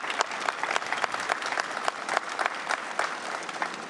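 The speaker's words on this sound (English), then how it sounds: "give her a round of applause" Audience applause at a legislation signing event on breast cancer coverage, a steady wash of many hands clapping, fairly distant and soft, continuous for the whole stretch with no talk over it.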